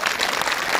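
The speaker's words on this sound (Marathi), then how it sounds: "पिंटू काकासाठी आणि एकदा जोरदार टाळ्या" A burst of loud, dense clapping from a gathering of villagers in front of the Shri Khandoba temple, cheering for a man called Pintu uncle, brief and continuous.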